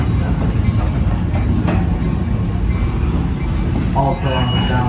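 Passenger train on the Climax Branch, heard from inside a moving car: a steady rumble and rattle of wheels and carriage runs throughout while someone talks over it.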